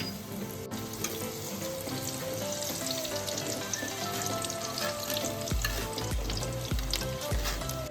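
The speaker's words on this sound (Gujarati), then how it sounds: "હવે છે ને આ બદામ, કાજુ અને આ કિસમિસ ત્રણેય જોડે જ આપણે થોડી જ ફ્રાય કરવાની છે." Almonds, cashews and raisins fry together in hot oil for a Diwali poha chevdo, giving a continuous close sizzle with stirring clinks and a few low knocks from the pan, and no talking.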